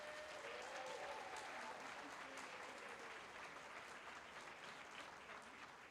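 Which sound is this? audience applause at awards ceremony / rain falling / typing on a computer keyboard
audience applause at awards ceremony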